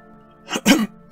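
Two quick, close coughs, one right after the other, in an otherwise quiet space.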